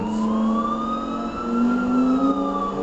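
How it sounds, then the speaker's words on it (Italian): Police sirens wail in the video game GTA 4, a loud, continuous rising and falling tone with layered harmonics that holds steady throughout. "Non si sente niente con le sirene"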